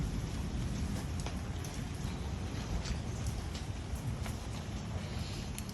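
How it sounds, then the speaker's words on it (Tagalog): Steady, dense typhoon rain pouring down with a constant hiss, occasional drips standing out, no voices. "Lumalakas ang ulan"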